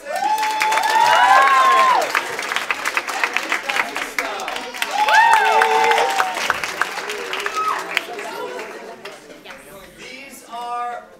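Audience at a poetry recitation competition claps and cheers for the judges, two loud swells of applause and whooping, with an announcer's voice over the crowd between them.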